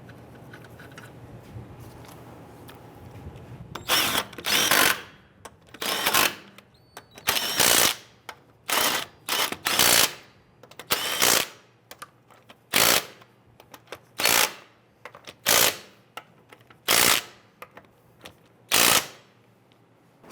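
A ratchet snugs down wheel bolts on a Chrysler 300, giving about a dozen sharp, loud bursts of rapid clicking with short pauses between them over a quiet background.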